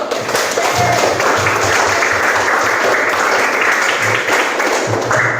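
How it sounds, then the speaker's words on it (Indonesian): Classroom applause from students after a group presentation in an Indonesian teacher-training lesson, loud continuous clapping from many hands close by, filling the whole stretch with a dense, even texture. "Tepuk tangan dulu."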